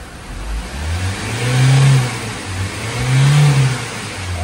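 A Hyundai Starex CVX van that had low power and a blinking check engine light is road tested. Its engine rises through two strong, loud revs that climb and fall in pitch over a steady road rumble.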